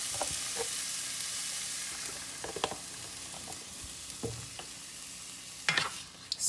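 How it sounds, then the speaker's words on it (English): A spoon stirs paneer curry with heavy whipping cream in a pan, soft scraping strokes over a steady sizzle, close and fairly quiet, no voices. "Stir it up. I will also add some heavy whipping cream."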